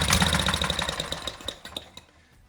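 A Briggs & Stratton 18hp opposed-twin race mower engine runs close by with a rough, pulsing idle that fades off toward the end.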